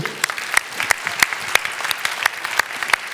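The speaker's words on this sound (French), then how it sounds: "on peut t'applaudir, bravo" Brief sparse clapping from a small group, individual sharp claps scattered irregularly, moderately close.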